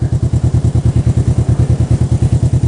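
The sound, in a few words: motorcycle riding past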